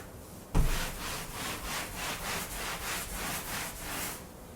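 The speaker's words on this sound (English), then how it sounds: "So I'm just going to continue washing the walls and the trim because we're painting that too." Walls and trim get scrubbed before painting: a steady back-and-forth rubbing swish, close and fairly loud, in even strokes about every third of a second after a sharp bump at the start, with no talking.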